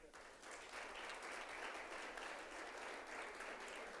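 A round of applause from the audience at an international conference of ombuds institutions for the armed forces, sustained and steady, building slightly in the first half-second and then holding even throughout.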